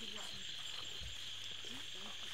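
Frogs croak in a rural Lao village setting near a stream, short low calls scattered over a steady high insect drone, fairly faint and continuous with no talk.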